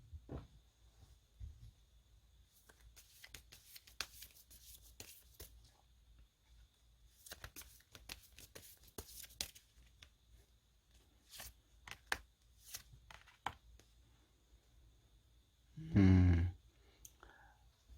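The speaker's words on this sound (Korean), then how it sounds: "그러면 끝으로 에필로그 카드, 행운 카드 뽑아보면은요" Tarot cards are shuffled and drawn in bursts of soft, papery riffles and clicks, fairly close, with a louder handling rustle near the end.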